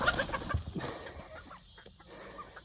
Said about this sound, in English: the older chickens are just not nice to the young ones